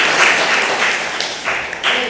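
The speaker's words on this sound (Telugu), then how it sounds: "అందరం గట్టిగా చప్పట్లు కొడదామా." A church congregation claps loudly together at a Telugu sermon, a dense, steady wash of applause with slight swells, close and filling the room.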